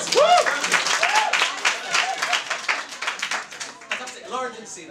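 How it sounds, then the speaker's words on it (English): A live hypnotist show audience claps in a loud burst that thins out over a few seconds, with a whoop and other excited voices over the applause. "A round of applause."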